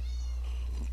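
A cat meows once up close, a drawn-out wavering cry over a steady low hum, with no other voices.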